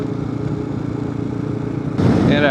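Dual sport motorcycle engine droning steadily while riding, loud and close with wind rush, then a sudden rise in roar near the end.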